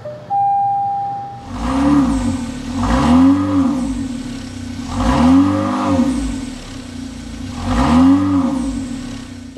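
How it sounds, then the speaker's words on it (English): A 2024 Dodge Hornet R/T Plus SUV engine turns over and starts, then revs in four strong surges that rise and fall, the exhaust rumbling loudly and close between each burst. "start this thing up so you can hear that exhaust note"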